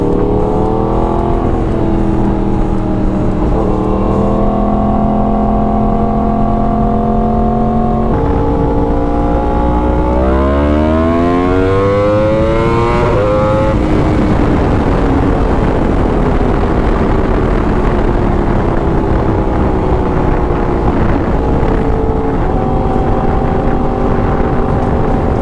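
A 2016 Yamaha R1 sport bike engine revs hard and climbs in pitch through several gears, hitting the rev limiter, with a drop at each quick shift before it winds up again. The engine is loud and close and carries steadily throughout.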